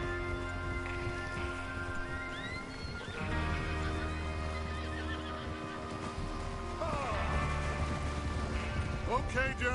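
Horses neighing and whinnying in the video game Red Dead Redemption 2, several loud whinnies rising over clip-clop hooves and ambient game sound, with a voice briefly talking.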